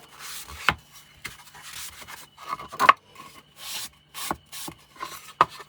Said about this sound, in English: So now we're just going to give it a very quick wipe over.